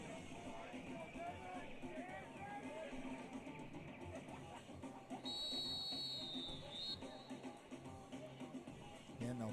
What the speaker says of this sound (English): And more whistles blow